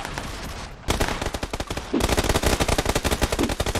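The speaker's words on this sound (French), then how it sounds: "Et les gens ils tirent partout." Loud, rapid automatic gunfire from players shooting in PUBG, with dense rattling bursts that start after a brief quieter moment and keep going almost continuously to the end, and no talking.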